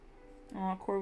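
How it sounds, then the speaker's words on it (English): A cat gives two short, close meows in quick succession, the second rising sharply, after a moment of near silence. "Aw, Corvo's meowing now."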